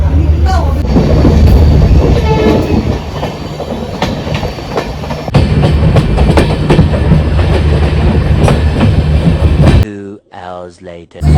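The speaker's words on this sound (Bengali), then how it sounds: "তো জাস্ট ট্রেন ছাড়ছে, চলো জার্নি স্টার্ট।" Heard from on board, a train departs with a loud, close rumble and rhythmic clickety-clack, while people talk nearby; the rolling noise cuts off abruptly near the end.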